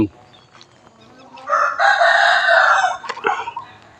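A rooster crows once at a temple in Chae Hom, Lampang, a loud drawn-out call lasting over a second, preceded and followed by softer clucks and faint background noise.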